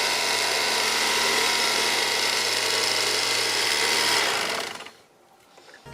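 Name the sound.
electric meat carving knife cutting mattress foam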